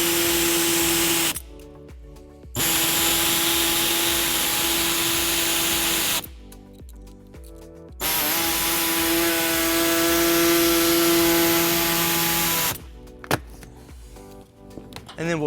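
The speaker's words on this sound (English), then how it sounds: "we'll be using an air saw to cut that out" Pneumatic air saw trimming the plastic bottom edge of a 2015 Fiat 500 bumper fascia, a loud steady whine running in three long bursts with brief quiet gaps between them.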